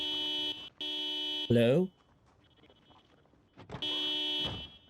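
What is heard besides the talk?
car alarm going off in video game Project Zomboid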